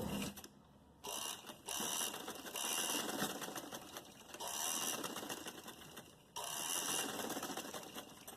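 Sewing machine stitching lace onto a kurti neckline, a steady fast mechanical whir and needle clatter running in bursts with brief pauses, close up and alone without talk.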